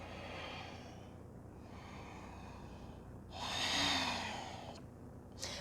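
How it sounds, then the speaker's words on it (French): Ujjayi breathing during a yoga flow: a steady, soft oceanic breath hiss sits low throughout, swelling into one louder, longer airy exhale near the middle, with a couple of brief breathy bursts after it; no talking. "Retrouve ta respiration Ujjayi."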